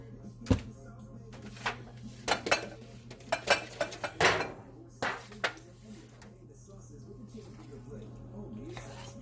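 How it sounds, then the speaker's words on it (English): Macaroni and cheese for Thanksgiving dinner gets spooned into a pan: irregular scrapes, clinks and soft wet thuds of a utensil against cookware, close by, with a voice talking over it and a low steady hum underneath. "So I'm going to put all this in a pan except what I'm going to save for him."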